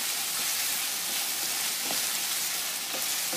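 Chopped onions frying and caramelizing in a pan for Spanish cannelloni, giving off a constant, close, even sizzle with a few faint stirring clicks and no voices.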